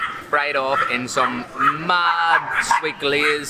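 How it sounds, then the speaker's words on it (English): Small dogs bark and yip in quick, excited bursts at a spot in Busan, South Korea, mixed in with and partly masked by a person talking over them. "Excuse the small dogs, they're having a bit of small dog syndrome there and just barking away."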